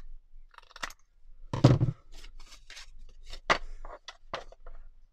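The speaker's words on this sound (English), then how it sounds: "I'm just going to cut across my corners." Big scissors snip across the corners of a card tag in a quiet craft room, a handful of sharp, crisp cuts spaced unevenly, with a louder chomping cut near the start.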